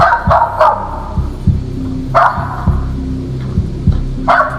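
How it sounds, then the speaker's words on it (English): A small Jack Russell Terrier barks outdoors at night, sharp yaps in irregular pairs and singles, close and loud over a low throbbing engine-like hum. "The family dog, a little Jack Russell Terrier, seems to be particularly freaked out by the mysterious dark figure."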